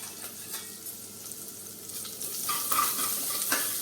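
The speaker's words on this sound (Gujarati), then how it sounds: "આ બધું આપણે વઘારની સાથે મિક્સ કરીએ" Hot oil tempering with ginger, curry leaves and asafoetida for sabudana khichdi, stirred in a pan: a steady crackling sizzle that grows brighter and louder, with light scraping of the spoon.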